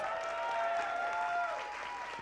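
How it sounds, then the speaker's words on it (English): Audience applause for award winners at a dance film festival awards night, a soft steady patter of clapping with faint tonal sounds over it. "Please give them a big round of applause."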